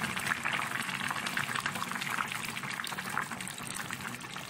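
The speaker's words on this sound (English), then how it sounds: "And now I will add my oil." Oil going into a simmering Edikang Ikong soup with beef, a continuous bubbling, liquid hiss close by with no pauses.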